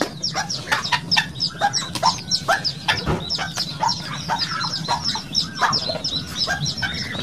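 Newly hatched native chicks peeping in a rapid, continuous chorus of high chirps, close and lively, with faint low clucking beneath.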